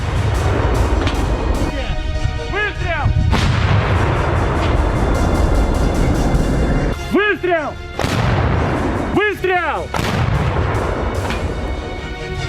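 Russian artillery brigade shelling in war footage, with repeated heavy booms and rumbling blasts over continuous loud noise, plus brief rising whistle-like tones between impacts.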